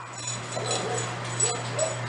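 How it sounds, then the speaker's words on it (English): A dog whimpers and yips softly at close range over a steady low hum, with short high whines rising here and there rather than full barks. "He's going to bark at all the dogs."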